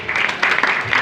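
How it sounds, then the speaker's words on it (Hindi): Audience applause at a Hindi-language church sermon, a dense wash of clapping from many hands, loud and steady for about a second with no voice over it. "एलेक्स भाई के लिए जोरदार ताली,"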